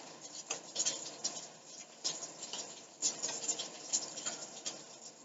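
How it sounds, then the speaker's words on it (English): Light rain patters steadily outdoors in soft, irregular ticks and taps, faint and close, with no voices over it. "you guys excuse the rain"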